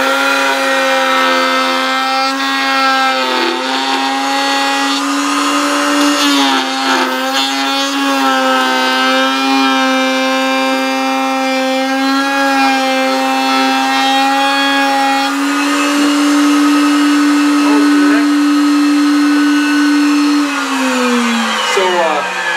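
A router with a bearing-guided bit carves a guitar neck, its bearing following the fingerboard profile. It gives a loud, sustained, high-pitched whine that holds steady for about twenty seconds and drops slightly in pitch near the end.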